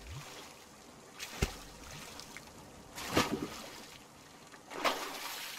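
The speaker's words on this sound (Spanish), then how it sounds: "el plof cuando cae de las olas es súper realista" A raft in The Forest video game splashes down off waves in a quiet water scene, with a few soft separate splashes spread over several seconds and faint trickling water between them.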